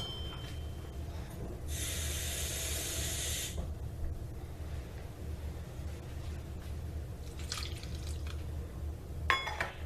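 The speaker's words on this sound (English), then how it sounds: "Then you want to go with a 1/2 cup of water." Half a cup of water poured into a mixture for homemade cinnamon roll dough: a soft, steady splashing hiss of about two seconds, faint and close, then a few light drips against a quiet room.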